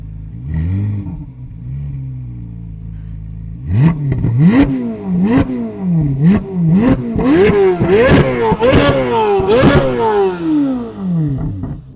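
Chevrolet Corvette C8 Z06 with straight-pipe exhaust and valves open: a brief idle, then a string of sharp, very loud revs that climb and drop in quick succession, close up and alone.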